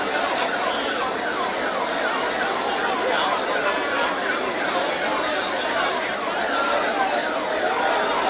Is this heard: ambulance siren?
yes